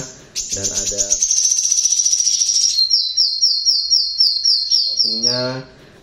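Loud, close birdsong from small caged songbirds: a long, shrill trilling whistle that shifts into rapid repeated chirps.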